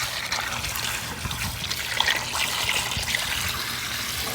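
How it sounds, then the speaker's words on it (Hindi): Water running and trickling steadily into a container outdoors in Jeddah, a continuous splashing stream close by with no talking. "और ये इसके अंदर पानी भरा जा रहा है"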